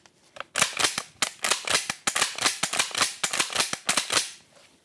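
Rapid, dense series of sharp clicks and snaps, a few dozen quick transients in uneven bursts, close and fairly loud, imitating rapid shotgun fire with no talking.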